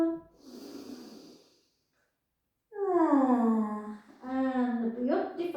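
A long, deep breath sighs out during a Pilates exercise, followed by a short pause and then a voice speaking loudly up close.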